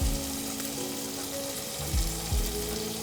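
Smoked pancetta frying in oil in a pan, a steady broadband sizzle running throughout, close and moderately loud, with a few low clunks of the pan or utensil along the way.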